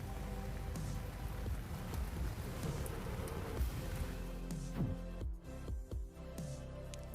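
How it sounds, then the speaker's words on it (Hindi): Rain falls near a camp in Rama Valley by Astore, heading toward a glacier, with a steady soft patter and scattered nearby drops and splashes, fairly faint and without talk. "बारिश हो रही है।"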